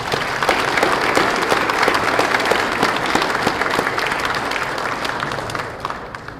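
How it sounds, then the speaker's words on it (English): Sustained, dense applause fills a room at a company annual meeting as the board chair, legal counsel and CEO are introduced, loud and even before fading slightly at the end. "If you would join me in giving them a round of applause."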